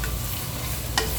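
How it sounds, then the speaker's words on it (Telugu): Onions frying in a pan for a Telangana wedding-style mutton curry, a close steady sizzle with a sharp scrape of stirring near the end. "ఉల్లిపాయలు అయితే చక్కగా వేగిపోయాయండి"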